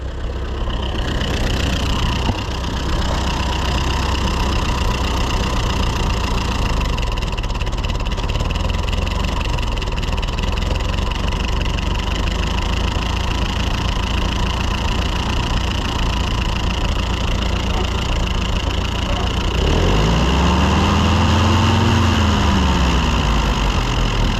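A loud, steady old Ford 8N tractor engine idles close by with a low, even rumble, its pitch briefly swelling and dropping near the end as if revved.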